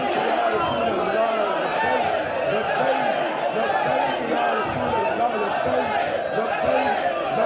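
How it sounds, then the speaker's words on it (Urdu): A large crowd at a Milad gathering chants religious slogans in a steady, rhythmic call-and-response, loud and continuous throughout with dense voices filling the space. "یا رسول اللہ آپ پر قربان ہونے کے لیے ایسے نعرے لگاتے ہیں"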